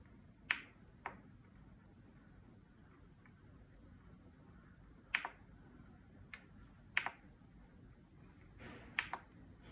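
Sparse, crisp key taps on a computer keyboard while a name is entered during drone flight-controller setup software configuration: a handful of single and paired clicks spaced seconds apart over a quiet room hiss, with no voices.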